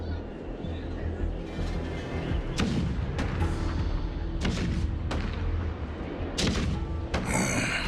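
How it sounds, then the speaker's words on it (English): Heavy booms of video game cannon fire thud repeatedly amid a low rumbling battle din, with a voice speaking over it. "The rumble of the cannons."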